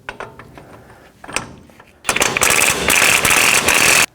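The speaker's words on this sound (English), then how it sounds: "Take your new axle nut and get it started. I'm just going to tighten it down." A ratchet spins a new axle nut onto the front hub of a 1997-2004 Dodge Dakota, with a few soft clicks and handling noises first, then about two seconds of rapid, loud, close ratcheting.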